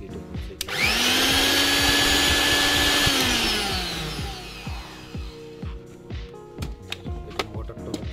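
A low-cost Vision blender with a copper motor spins up to a loud, steady high-speed whine for a few seconds, then winds down and stops, followed by scattered clicks and handling taps.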